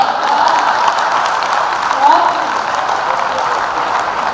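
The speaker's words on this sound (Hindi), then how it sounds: "और ये उन्हीं लोगों ने ताली बजाई है जो मेरी तरह है।" Sustained audience applause at a Hindi comedy show, a dense, steady wash of clapping that carries evenly for several seconds without pause.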